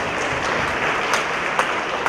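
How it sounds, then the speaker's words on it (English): Audience applause for teachers and counselors at a student council meeting, steady broadband clapping sustained for about two seconds with a few sharper individual claps standing out. "Let's give our teachers and counselors a great round of applause."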